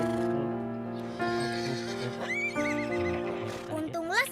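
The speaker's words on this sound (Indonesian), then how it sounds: "Setibanya di istal kuda, ayah langsung memeriksa keadaan Scotty" A horse in a stable whinnies loudly in a long wavering neigh, with a second rising call near the end, over steady background tones and faint hoof sounds.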